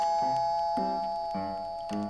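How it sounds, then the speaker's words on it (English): Four evenly spaced ringing chimes from a doorbell in a preschool Mystery Manor setting, each strike bright and sustained, with no one talking. "Oh good, it's the Mystery Manor doorbell."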